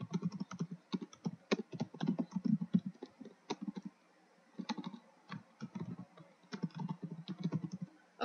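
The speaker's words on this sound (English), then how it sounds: "I'm pretty much typing in a command" Typing on a computer keyboard while entering a command, with close, crisp key clicks in uneven bursts and short pauses between runs, heard alone without talk.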